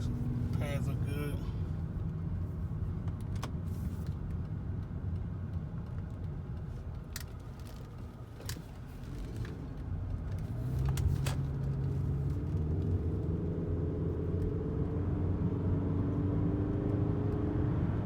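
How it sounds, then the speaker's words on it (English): A 2003 Toyota Camry drives along with a steady low road and engine rumble, then brakes hard, the drone dipping and swelling again while someone talks over it throughout. "So I'm gonna brake hard. Some hard braking."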